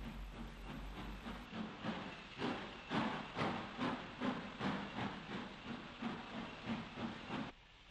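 A Hudswell Clarke 0-4-0 saddle tank steam locomotive shunts at a brewery in Ireland in 1962, chuffing in a steady rhythm of exhaust beats over a hissing, grainy old-film background.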